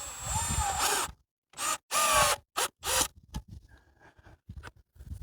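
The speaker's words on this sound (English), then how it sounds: "if you don't have a magnetic drill bit, like I don't in this instance, you can just go ahead and start one corner." Short bursts of a handheld power drill starting a hole at a corner while setting up a Granberg Alaskan chainsaw mill, several quick whirring spurts separated by silences, followed by quieter handling clicks and knocks.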